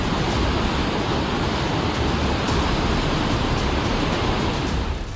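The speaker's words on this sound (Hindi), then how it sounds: "पानी का ये वेग, टूटते पहाड़ों का ये शोर" Floodwater rages through the Himachal mountains after a cloudburst, a dense, loud, unbroken roar of rushing water that holds steady throughout, with no voices.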